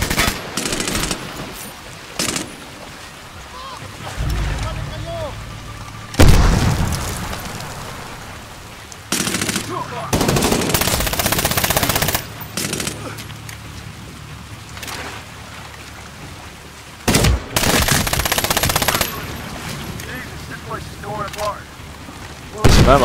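Enemy gunfire in the Medal of Honor video game, bursts of rapid automatic fire and loud shots cutting in and out over a rain-like battlefield din, with a voice talking in between.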